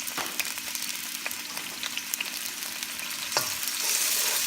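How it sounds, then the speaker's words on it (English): Garlic sautés in hot oil with a steady, close sizzle and crackle, while a few scrapes of stirring come through and the frying grows slightly louder toward the end. "put some oil, and then put our garlic,"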